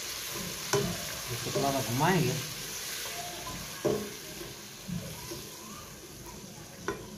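Tomatoes and red chili powder sizzle in a pan with browned garlic, a steady soft frying hiss broken by several scraping stirs and clinks, while a voice speaks briefly over it.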